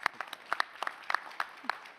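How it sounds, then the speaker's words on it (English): Small audience at a fintech talk clapping: a thin, sparse scatter of distinct individual claps, fairly quiet and irregular, lasting a couple of seconds. "Clap it up for that"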